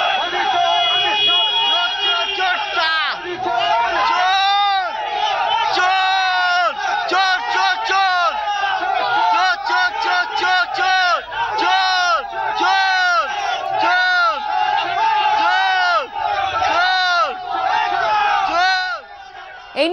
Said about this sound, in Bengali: শুভেন্দুর কনভয় ঘিরে চোর স্লোগান।